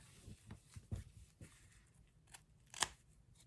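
Scissors cutting through a fabric necktie, a series of soft, close snips spaced irregularly, ending with one sharper, louder cut.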